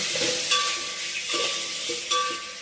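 Tomato biryani being stirred in a pan, soft scraping and light sizzle with a few metallic spoon clinks against the pan at a slow rhythm, close and moderately quiet.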